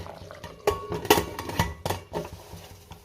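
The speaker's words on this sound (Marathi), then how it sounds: "आणि कुकरचं झाकण लावून कुकरच्या 2 शिट्ट्या घेणारे" A pressure cooker lid is fitted and closed over Bhogi khichdi, with a series of close metallic clanks and clicks spread over about three seconds. Some softer scraping follows between the knocks.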